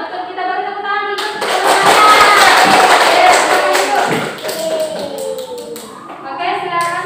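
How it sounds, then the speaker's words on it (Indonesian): A classroom of students breaks into clapping for about three seconds, loud and mixed with chatter and children's voices, during a lesson on plant tissues. The clapping fades as talking carries on. "Kita beri tepuk tangan dulu."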